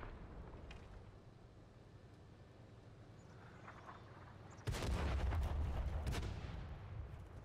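A heavy Italian tank cannon fires in a video game, a single loud, sharp blast that breaks a low rumbling background, followed shortly by a second burst and a fading roar.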